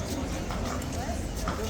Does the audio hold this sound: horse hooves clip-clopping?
yes